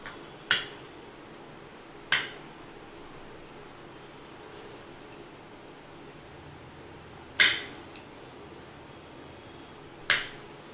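Knife trimming the ends of okra on a board: four sharp, isolated clicks spaced irregularly across a quiet background, each close and crisp.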